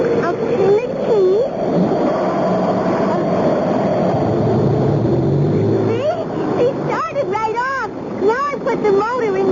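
A boat motor is cranked with a key and turns over, rumbling steadily beneath tense dialogue in a staged radio-drama scene with wind and water around it.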